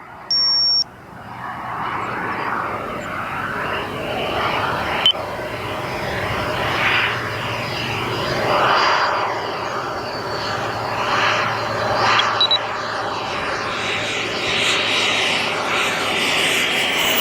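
A BDX RC jet from Elite Aerosports comes in to land with a steady, high turbine whine that swells and fades as it passes. A short electronic beep sounds at the very start.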